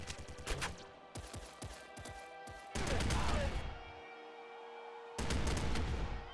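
Explosive assault rifle fire in the video game Nuclear Throne, sharp rapid bursts followed by crunchy blasts, loud and up close with brief gaps between volleys.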